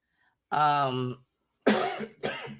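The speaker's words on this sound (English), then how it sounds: "I had a cough" A brief spoken phrase, then two sharp, close coughs in quick succession.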